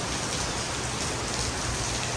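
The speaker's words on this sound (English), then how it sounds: "Now I'll just wait for the rain to draw back some" Rain falls steadily, a dense, even hiss of drops pattering on surfaces, loud and continuous with no voices.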